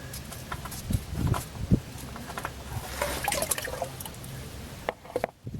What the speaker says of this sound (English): the oil filter will drain into this drain pan